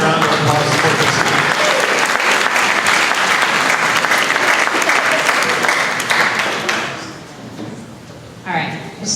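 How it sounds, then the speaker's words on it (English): Audience at a business mastermind event applauds loudly for a woman called up to the stage, a dense burst of clapping that fades after several seconds, followed by a brief voice and a thump. "Round of applause for Christina."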